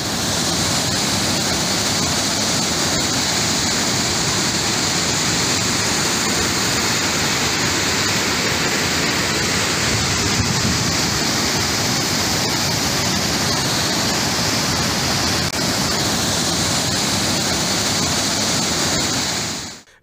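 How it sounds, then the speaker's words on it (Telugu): Musi river floodwater in Hyderabad surges under a bridge after heavy rains, a constant loud roaring rush of water that holds steady for the whole stretch without a break. "బ్రిడ్జిని తాకుతూ నీళ్లు కిందకు ప్రవహిస్తున్నాయి"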